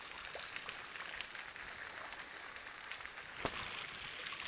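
A waterfall in the Blue Mountains bush near Sydney, heard from its base as a faint, steady broadband hiss of falling water, continuous and even throughout with no voices.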